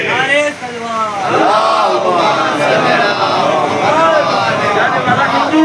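A loud crowd at a religious majlis on 19 Safar chants slogans in unison, rising voices answering a leader's calls in surging, repeated waves.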